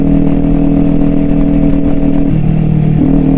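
A Kawasaki Ninja 400 motorcycle engine roars loud and close as it accelerates to overtake, a steady high-revving drone that drops slightly in pitch near the end, with no voices.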